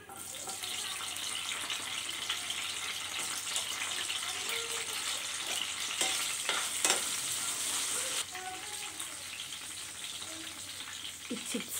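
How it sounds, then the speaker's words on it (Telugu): Green chillies frying in a pan as the base for a tomato chutney, a steady hiss of oil sizzling throughout with occasional stirring scrapes and clinks, close and continuous with no talk. "ఇవి ముందుగా పచ్చిమిర్చి వేయించుకుందాం"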